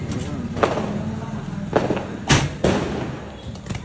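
Diwali firecrackers burst outdoors, several sharp bangs spaced irregularly over a few seconds against a busy background.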